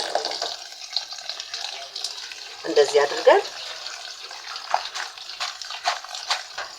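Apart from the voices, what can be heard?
rinsing cooked pasta with cold water in a strainer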